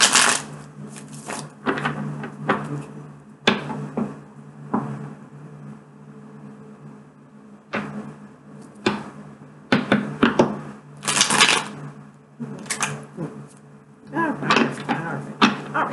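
A deck of tarot cards being shuffled in a series of quick, crisp riffling bursts separated by short pauses, close and fairly loud, with no one talking.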